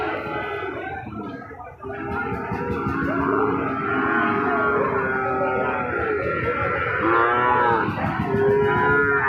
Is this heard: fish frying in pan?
no